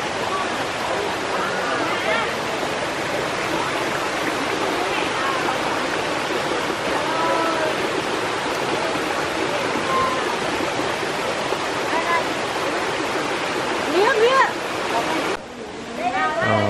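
Hiêu waterfall in the low-water season, a continuous broadband rush of falling water, loud and steady, with speech faintly over it near the end.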